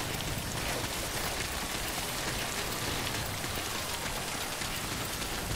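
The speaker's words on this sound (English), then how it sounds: "Oh, it's just raining in general now." Steady, dense rainfall in the video game Death Stranding hisses evenly throughout, a constant wash of drops with no voices.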